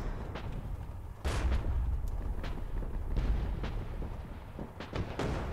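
Artillery fire in the Armored Battle Crew tank video game: a steady rumbling battlefield bed punctuated by several sharp gunshot-like blasts and booms, some near and loud, spread irregularly across the passage.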